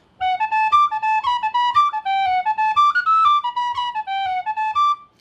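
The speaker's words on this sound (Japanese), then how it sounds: "イルランド風に不均等に吹くと" Bright tin whistle melody in a lilting, uneven Irish jig rhythm, each group of three notes leaning long-short with the first note lengthened, with soft tapping beats underneath.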